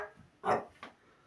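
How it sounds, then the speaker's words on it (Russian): A dog gives two short, close barks indoors, a louder bark followed by a briefer one, against a quiet background. "И это еще гавкает."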